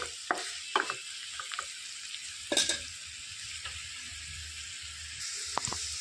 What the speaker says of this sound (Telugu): ఒక రెండు సెకండ్లు ఈ తాలింపు అనేది మంచిగా వేయించుకోవాలి